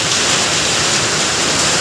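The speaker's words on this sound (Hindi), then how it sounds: "बहुत खतरनाक वाली बारिश हो रही है देखो" Heavy rain pours down steadily at a bus stop on a mountain road toward Rudraprayag, a loud, dense, constant hiss with no break.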